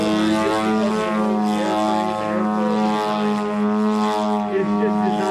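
A light airplane engine and propeller drone steadily at low, even throttle, with strong harmonic hum running throughout beneath someone talking.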